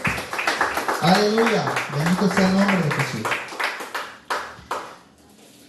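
A church congregation claps for Jesus, and a preacher speaks over a full, reverberant room before sharp bursts of hand claps stand out near the end.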